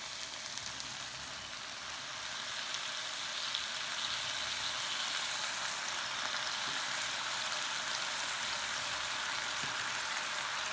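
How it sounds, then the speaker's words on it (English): Soy sauce sizzling around the edge of a frying pan with sliced lotus root for kinpira renkon, a steady bright crackle and hiss that swells slightly after a couple of seconds, heard alone without talk. "soy sauce you want to add around the edge of your frying pan because it gives like a more flavor to your dishes"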